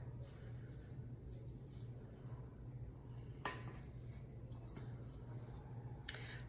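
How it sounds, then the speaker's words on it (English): A spatula scrapes shortbread dough off the sides of a mixing bowl in quiet, scratchy strokes with a few sharper knocks, faint against a steady background hum. "Use my spatula again to get the rest that's sticking to my sides."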